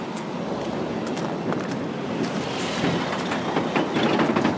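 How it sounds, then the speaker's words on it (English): A train rumbles past steadily, with rhythmic clatter of wheels on rails and some wind buffeting the microphone, no talking. "Oh, I thought the train stopped."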